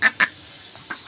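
A duck quacks twice in quick, close, nasal calls, followed by a fainter third call, with no talking.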